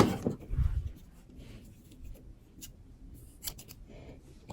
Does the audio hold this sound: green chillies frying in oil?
no